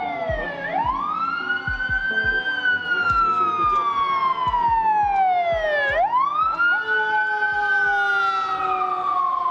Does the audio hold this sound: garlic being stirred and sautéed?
no